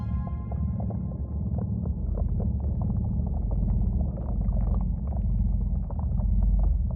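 The sun's surface oscillations rendered as sound, a continuous deep throbbing rumble with faint pulsing tones above it, steady and without voices throughout.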